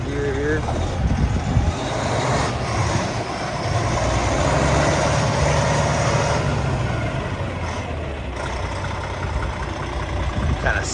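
A 2015 Kenworth T800 truck's engine idles steadily after starting, a continuous low rumble close by with some outdoor noise mixed in and no talk over it.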